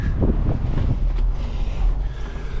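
Strong wind buffets the microphone outdoors at a tractor auction in loud, continuous low rumbling gusts.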